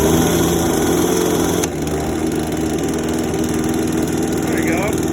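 A chainsaw engine, choked and freshly primed for a first use, catches and settles into a steady, loud idle that runs continuously close by, with a brief shift in tone early on.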